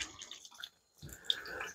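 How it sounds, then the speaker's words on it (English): Hot water runs from the tap of an older-style bathroom sink with a clogged drain. A faint splash gives way to a brief silence, then a steady, quiet flow of water. "turn the hot water on."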